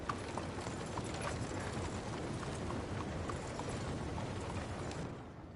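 Horse hooves clip-clopping in the Red Dead Redemption 2 video game, a dense continuous patter of steps under broad rumbling ambience, steady throughout without talk.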